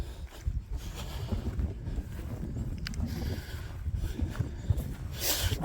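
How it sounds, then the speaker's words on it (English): Strong gusting wind buffeting the microphone on a Lake District fell top near Broad Slack, deep rumbling blasts that swell and ease, with no voices. "God, it's windy here"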